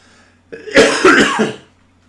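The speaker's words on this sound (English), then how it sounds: "I'm having one of my coughing bits now." A man with a lingering cold coughs and clears his throat in a short harsh burst of several rough hacks, close and loud, then falls quiet.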